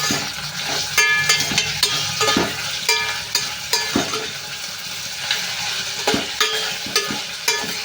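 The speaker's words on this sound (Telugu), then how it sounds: "ఉల్లిపాయలు అయితే వేసుకున్నాం కదా ఫ్రై చేసుకోవాలి" Onions and green chillies fry in a pan for a mango chicken dish, giving a steady close sizzle. Repeated sharp taps of a spoon against the pan sound as the pieces are stirred.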